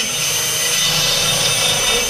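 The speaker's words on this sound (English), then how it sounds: "I'm just going to hit it with a drill and see how well it cuts" A drill grinding out the port of a stock LS cylinder head intake manifold, a steady high whining rasp held continuously and fairly loud, with no talking.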